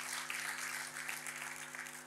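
A church congregation claps and cheers in praise, a dense, steady wash of applause filling the room with a low electronic hum beneath, no voices standing out.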